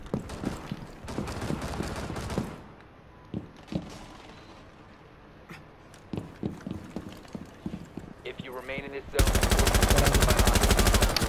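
Gunfire in Rainbow Six Siege, with rapid automatic bursts and scattered single shots in an intense exchange, then a loud sustained barrage at the end. A faint voice is heard in the background.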